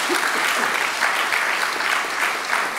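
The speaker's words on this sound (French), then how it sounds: "il nous reste à applaudir et remercier nos trois intervenantes" A conference audience claps after a panel talk on housing-market crises, sustained even applause from a fairly large room, steady and undisturbed by voices.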